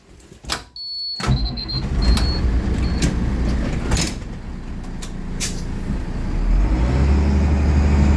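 A bus engine runs steadily while driving, a loud close low rumble that holds throughout, with a few sharp clicks and rattles near the start and a slight rise in drone toward the end.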